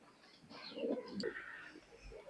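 Teddy pigeons, a Pakistani high-flyer type, coo softly in a loft, with a few low murmuring calls and faint chirps over quiet background rustle.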